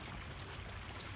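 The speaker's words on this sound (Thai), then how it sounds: "น้ำไหลแรงก็มาจากด้านหลังอะค่ะ" Strong water flows through a dug channel beside a neighbouring rice field into a pond, a faint, even rushing wash with one brief higher chirp partway through.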